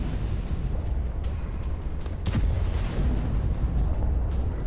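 Russian artillery bombarding Ukrainian army positions, a continuous rumbling barrage of dull booms and bursts layered over a heavy low roar, with a sharper blast near the middle.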